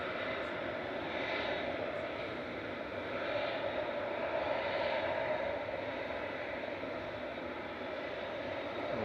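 An EasyJet airliner landing at Manchester airport comes through as a distant, steady jet rumble with gentle swells, fairly faint and unbroken.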